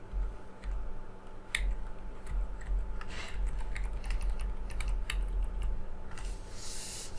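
Computer keyboard typing, heard as scattered key clicks and taps at close range, irregular in rhythm, over a steady low electrical hum.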